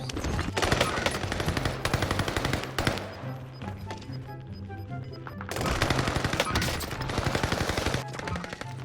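Automatic gunfire in Call of Duty: Warzone played on controller, with dense rapid bursts of shots running loud and continuous, a brief quieter lull in the middle, then heavy firing again.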